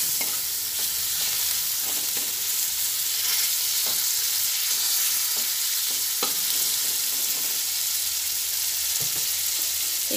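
Spices with half a spoon of turmeric frying in a pan, a loud continuous sizzle broken by repeated scraping strokes of a spatula, no voices.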